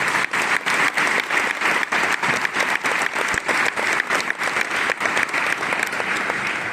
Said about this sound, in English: I would like to have a big round of applause